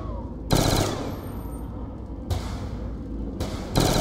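Automatic gunfire in the Call of Duty Black Ops 2 Zombies video game comes in three loud rapid bursts, separated by gaps of rumbling background noise.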